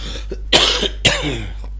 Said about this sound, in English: sorry for my coughing there